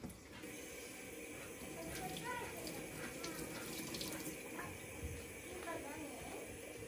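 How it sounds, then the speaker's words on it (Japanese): A tap runs steadily to rinse konoshiro fish from Lake Hamana at a sink, making a continuous close splashing stream with faint clinks and handling noises, and no one talking. "ささっと一瞬水でちょっと洗い流します"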